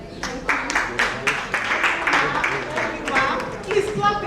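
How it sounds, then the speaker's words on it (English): Audience applause at a women's conference on gender policy: a short burst of hand clapping under a speaker's amplified voice. "Please clap again."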